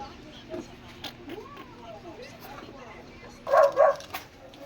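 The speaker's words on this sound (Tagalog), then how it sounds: "Ingay ng aso." Two short dog barks close by near the end, following a stretch of quiet background murmur and faint voices.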